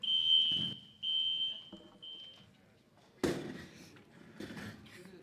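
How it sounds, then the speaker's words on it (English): A fire alarm goes off in a board meeting room, sounding three long shrill beeps with gaps between them, followed by loud clattering and shuffling movement as people react. "the fire alarm went off"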